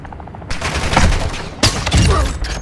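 Bursts of gunfire in the video game DMZ, rapid overlapping shots that swell into a loud volley, break briefly, then resume with another dense burst; faint voices sit underneath.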